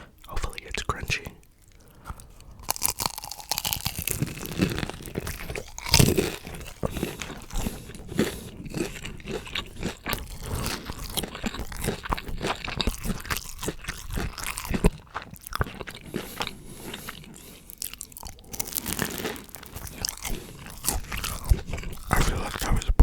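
Close crunchy chewing and biting of Panda Express food, steady and continuous, with soft whispery mouth noises throughout.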